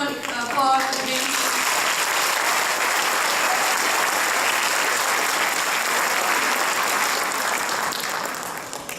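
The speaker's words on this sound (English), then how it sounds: "Can we have one more round of applause for James?" A school audience at a senior awards ceremony breaks into loud, sustained applause that swells quickly, holds dense and steady for several seconds, then begins to thin out at the end.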